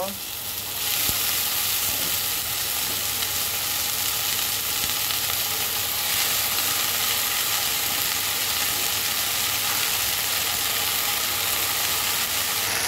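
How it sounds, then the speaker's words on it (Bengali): Chopped water spinach (kalmi shak) goes into a pan of fried onions and sizzles loudly and continuously, a dense, steady frying hiss that swells in the first second and holds for about twelve seconds. "এখন আমি কেটে রাখা শাকগুলি দিয়ে দেব"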